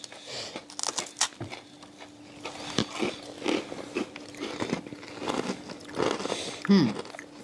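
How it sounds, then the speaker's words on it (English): Close, crunchy chewing and biting of freeze-dried ice cream, irregular bursts of crackling with soft breaths and a faint voice between. "once you get past the crunching ice cream"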